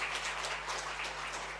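A church congregation applauds during a Sunday service: soft, steady clapping from many hands, fairly faint and distant over a low electrical hum.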